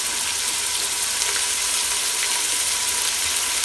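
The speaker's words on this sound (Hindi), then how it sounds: "बस आहिस्ता आहिस्ता जैसे ही हमारा चिकन फ्राई होता जाएगा" Chicken pieces fry in a pan with a steady, close, even sizzle that continues throughout.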